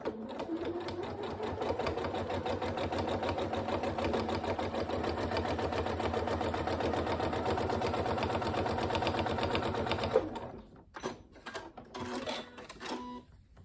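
A sewing machine stitches a half-centimetre seam on a zipped pencil case, whirring steadily and loudly for about ten seconds before stopping, followed by a few handling clicks and a short burst.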